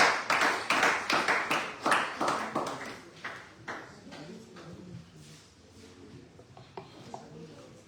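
Audience at a legislative internship programme session giving a round of applause; a burst of distinct sharp claps that starts strong and thins out over several seconds into scattered faint claps.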